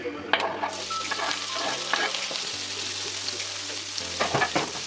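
Chopped onion frying in a pan with a sprinkle of sugar, a steady close sizzle with bright crackles and spatters, broken by the scrape and clatter of stirring for about five seconds.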